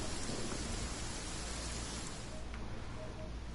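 A heavy video-game downpour hisses as dense, steady rain with a low rumbling undertone, constant and enveloping throughout, with no voices over it.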